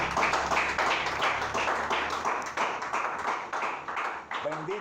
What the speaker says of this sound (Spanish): Den un aplauso a Cristo y lo dejamos ahí.